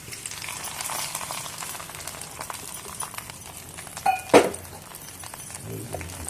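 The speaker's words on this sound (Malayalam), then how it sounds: "പായസത്തിലേക്ക് അണ്ടിപ്പരിപ്പ് മുന്തിരിങ്ങയും ചേർക്കാം" Cashews and raisins being stirred into a pot of sweet payasam make a steady, soft sizzling hiss, with a brief louder scrape and clatter near the middle of the stir.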